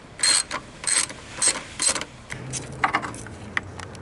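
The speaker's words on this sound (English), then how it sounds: "we're gonna take off that bolt, which is for the bracket holding down the battery" Ratchet wrench backing out the bolt on a car battery hold-down bracket: four quick, close ratcheting bursts, followed by softer, scattered clicks and a faint low hum.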